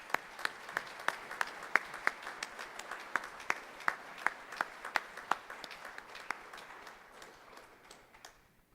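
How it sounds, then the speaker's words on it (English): A small crowd in a school auditorium at a Memorial Day program claps for several seconds, sharp scattered claps near and clear that thin out and fade toward the end. "Let's all give the Scouts a round of applause for their wonderful work."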